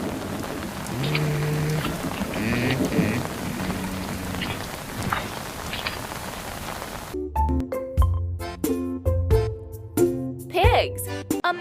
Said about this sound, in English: ostriches, unlike other birds, can get wet in the rain